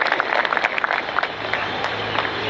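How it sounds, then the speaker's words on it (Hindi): An audience at a Republic Day celebration claps for an honored volunteer, a moderately loud burst of mixed claps that thins into a steadier, softer patter. "अच्छी तालियां होनी चाहिए इनके उत्साहवर्धन के लिए।"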